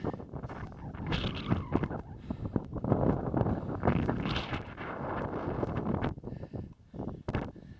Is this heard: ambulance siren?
no